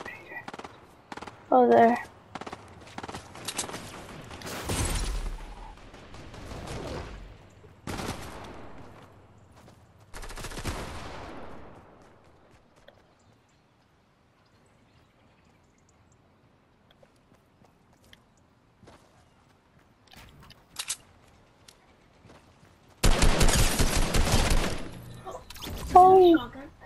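Assault rifle bursts in Fortnite crack out in several short clusters, with a long quiet stretch before a final loud, dense volley; someone speaks briefly between shots.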